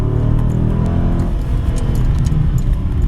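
A Dodge Charger Scat Pack launches from a standstill with launch control and line lock: a loud, steady engine roar with tires spinning throughout, turning into a harsher broadband rush partway through.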